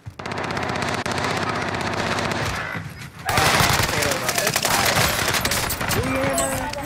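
Video game gunfire: rapid, dense automatic shots crackling steadily throughout, briefly dropping away near the middle before resuming louder with sharper, closer bursts.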